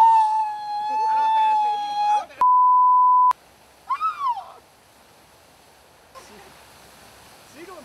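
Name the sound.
voice imitating a seagull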